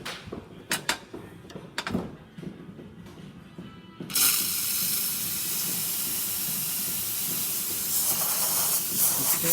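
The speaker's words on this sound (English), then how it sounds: "Now this is the steamer." Steam wand on an Olympia espresso machine hisses loudly and steadily, bursting on after a few seconds of quieter clicks and handling noises and holding a broad, continuous rush to the end.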